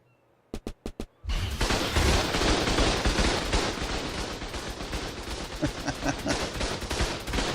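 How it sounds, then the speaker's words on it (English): Defense tower guns in Ark Survival Evolved open fire after a few quick clicks, then a dense, loud, continuous barrage of rapid gunshots rolls on, with sharper individual bursts standing out toward the end. "let's hear the guns ablazing"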